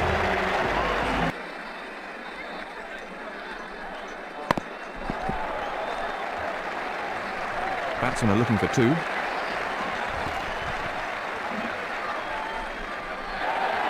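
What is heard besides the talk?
crowd applause in cricket video game Ashes Cricket 2009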